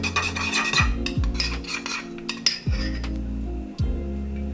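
Utensil stirring a homemade marinade in a bowl, with clinks and scrapes against the sides and a few sharp taps, close and clear with no talking.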